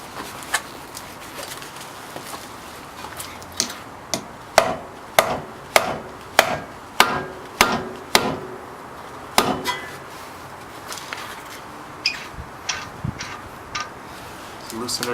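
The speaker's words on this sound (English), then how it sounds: "use a rubber mallet and hammer it through" Sharp hammer blows drive a CV drive axle through its wheel hub during an axle change, about a dozen ringing metallic strikes in a steady run, with a few scattered hits before and after.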